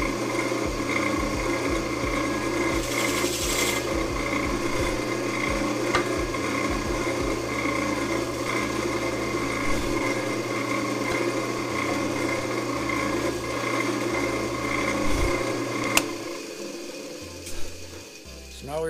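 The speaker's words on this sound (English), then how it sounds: "I do have the drill bit set to go down about 1/8 of an inch into the" Power drill boring shallow holes about 1/8 inch deep into a wooden board with a stop jig, a steady close mechanical whir and grind running throughout, with a few brief changes in pitch near the end.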